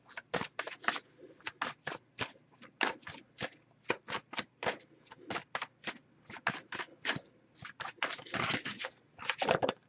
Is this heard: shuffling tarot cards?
yes